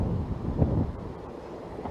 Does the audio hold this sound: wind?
yes